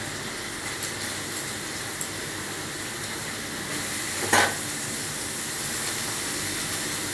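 Onions hit hot oil with ginger and garlic for tadka dal, giving a steady close sizzle and hiss throughout, with a brief louder clatter of stirring partway through.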